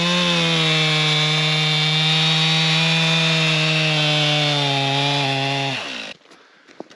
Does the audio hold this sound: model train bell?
no